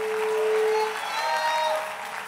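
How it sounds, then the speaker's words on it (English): A congregation claps and applauds throughout a church convention service, a broad steady wash of hand clapping with a sustained musical tone and voices mixed in. "Give the Lord a great big hand clap all over this house."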